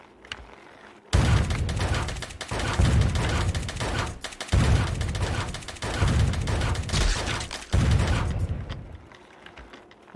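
Video game gunfire from Happy Wheels comes in dense, heavy volleys of rapid shots with booming low end, several sustained bursts separated by brief pauses, loud and up front.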